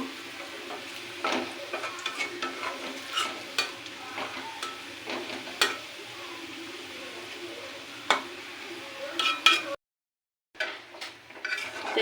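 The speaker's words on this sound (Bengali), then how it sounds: "শুকনো মরিচ দিয়ে সুন্দর করে বেজে নেব" Dried red chillies fry in a pan with onion and garlic, giving a steady sizzle broken by repeated scrapes and clinks of a stirring utensil against the pan. The sound is close and moderately loud, with a brief silent gap near the end.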